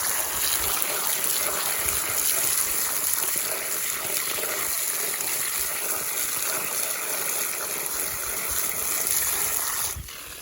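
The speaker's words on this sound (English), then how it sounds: "I am going to wash or rinse these off real quick" Vegetables rinsed under a running kitchen tap, a steady close gush of water splashing for several seconds before cutting off abruptly near the end.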